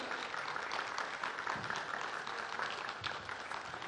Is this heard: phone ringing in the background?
no